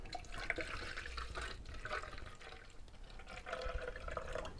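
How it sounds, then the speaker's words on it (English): Water running through a Nespresso coffee machine during descaling, a faint, steady trickling and gurgling flow that carries on without a break, close by and with no voices. "it barely took any time at all for that water to run through"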